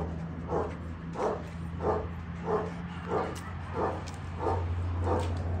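Two male dogs bark in a steady series of about eight evenly spaced barks, close and clear, over a constant low hum, with no talk.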